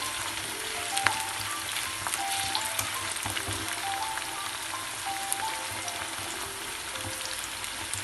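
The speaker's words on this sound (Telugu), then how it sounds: "ఇది గోల్డ్ కలర్ వచ్చేదాకా వేయాలి వేగతో" Ingredients for a broad bean (chikkudu) chutney frying in oil until golden, a continuous soft crackling sizzle with faint popping, fairly quiet and steady with no talk.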